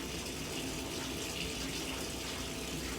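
Tap water running steadily into a sink during a morning routine, a constant close hiss of flowing and filling water with no break.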